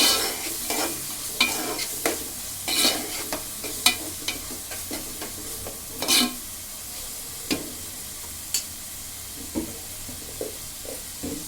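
Prawns fry with turmeric in a pan, a steady close sizzle broken by repeated scraping stirs at an uneven rhythm, with no voices.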